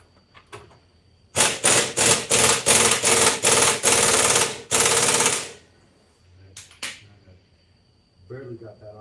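Air impact wrench hammering on an engine crank bolt at low pressure: several loud, rapid rattling bursts in quick succession, then a long final burst, with clanks and brief speech around them.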